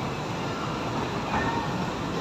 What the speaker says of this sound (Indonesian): Sekarang Zen mau naik kereta nih teman-teman